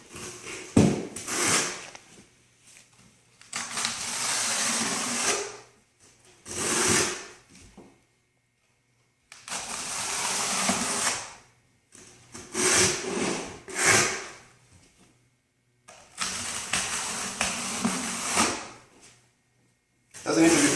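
A trowel scraping cement across backer board for a tile floor under a kitchen sink cabinet, gritty rasping strokes in separate bursts with pauses between, close up, while someone talks at times.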